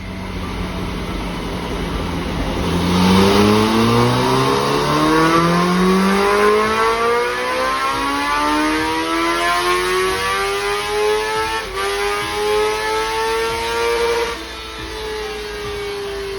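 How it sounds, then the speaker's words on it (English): A 2022 Kawasaki ZX10R with an Akrapovic header and full system versus the stock header revs up steadily, a loud, rising high-RPM wail that climbs and holds, with another pass layered on, then drops off near the end. "The stock header versus an AKRAPOVIC header and AKRA full system."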